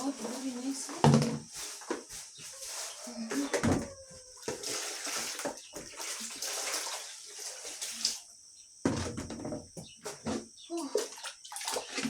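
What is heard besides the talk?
rinsing and washing vegetables in water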